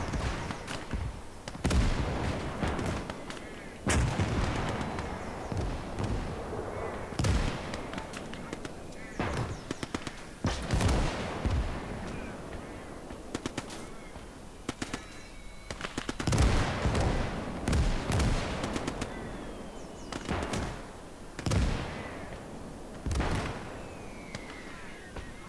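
Artillery in the WWII strategy game Gates of Hell fires smoke shells, sharp booms and cracks scattered irregularly across a continuous battlefield din, some near and loud, others distant.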